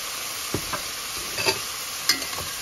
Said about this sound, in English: the oil hot, so now I'll put the meat in